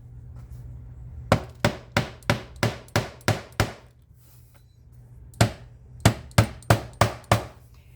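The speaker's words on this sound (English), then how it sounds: "I have a hammer." Sharp hammer taps ring out in two rhythmic bursts of about seven and six strikes, close and crisp, with a pause between the runs.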